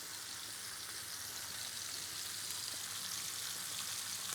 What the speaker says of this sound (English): So now we leave it there, sizzling away for a couple of minutes till we have a good crust before we flip them.